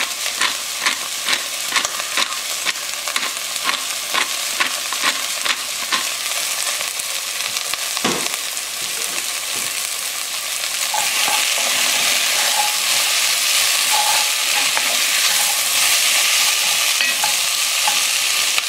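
Chopped pepper and onions sizzle in a hot pan as the base for a vegan lentil soup, a steady close frying hiss broken by a run of scraping stir strokes in the first half, with no voices.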